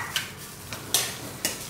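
Minced pork and spices being stirred together for prawn and pork dumpling filling, with a few sharp clicks of a utensil against a bowl at irregular intervals over a faint background; no voices.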